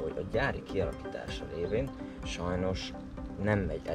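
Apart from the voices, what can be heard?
None of the usual background noises is heard.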